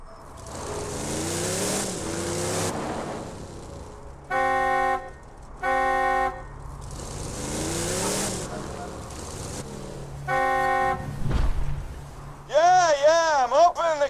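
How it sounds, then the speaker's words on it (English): Borderlands 2 game sounds with engine noise and repeated electronic car horn honks, several short bursts, followed by a warbling siren-like tone at the end. "Just drive up and honk your horn."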